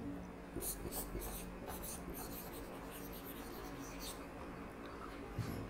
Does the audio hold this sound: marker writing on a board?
yes